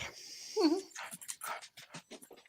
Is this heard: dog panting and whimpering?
yes